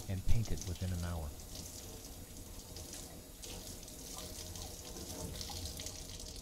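Tap water running steadily over a metal part during a wetting test for a threaded anchor used to mount museum artifacts, a continuous splashing hiss with a louder gush at the start.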